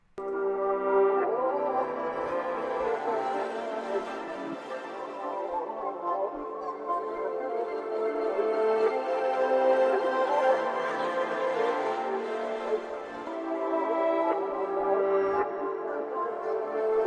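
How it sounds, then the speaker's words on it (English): Reversed melody in a dark R&B beat, processed with radio-style EQ, automation, stereo widening and reverb, plays as a steady, washy swelling line for the whole stretch with no talking. "So usually when I go ahead and reverse melodies and flip them, I love to add these effects to it."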